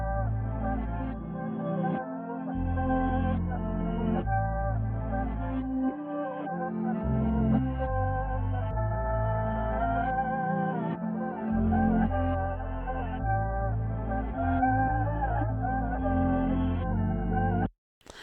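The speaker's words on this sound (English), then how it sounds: "if you play the bass line along with the chopped up and reversed melody they came up with, this is what it sounds like" A deep, chopped bass line locks with a reversed, cut-up synth melody in a dark R&B hip-hop beat, the low notes pulsing in short blocks under warbling backward tones, loud and continuous before stopping abruptly.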